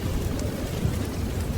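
Steady storm rain with low thunder rumble on a dark night at a river, a continuous wash of rainfall filling the short stretch without any voice.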